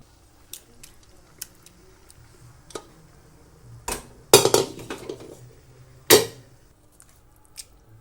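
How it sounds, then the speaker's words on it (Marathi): Cooked pav bhaji vegetables being mashed with a masher in a kadhai, giving scattered soft squishy presses and a few sharper metallic clinks at irregular intervals, close and moderately loud against a quiet background. "मॅशरच्या साहाय्याने मी परत आता छान अशी भाजी मॅश करून घेतलेली आहे"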